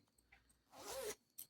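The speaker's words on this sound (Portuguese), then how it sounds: "Vou fechar o meu zíper." A clothing zipper pulled shut during sewing of a fabric crib headboard, one smooth rising zip lasting about a third of a second, close and quiet, followed by a small click or rustle.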